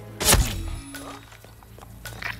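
A single sharp sniper-style shot fired at a target in the stealth game Hitman 3, heard as one loud crack near the start, followed by a faint metallic ring and quiet ambient sounds.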